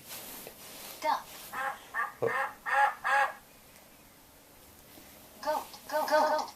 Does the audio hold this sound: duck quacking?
yes